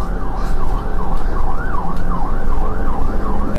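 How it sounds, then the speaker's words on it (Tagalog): An ambulance siren wails loudly and continuously, its pitch sweeping steadily up and down in a regular cycle over a low rumble of road traffic, with no voices. "Dinala si Lily sa ambulansya at mabilis na binigyan ng paunang lunas."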